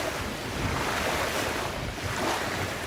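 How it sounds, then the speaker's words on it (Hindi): Waves rolling on Pangong Lake in Ladakh under strong wind, a steady, dense wash of surf and gusting roar filling the whole clip, with heavy wind buffeting on the microphone and no voices. "पानी में इस तरह की वेव्स उठ रही हैं कि जैसे ओशन में उठती हैं"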